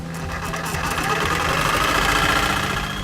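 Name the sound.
Sawzall reciprocating saw cutting through pipe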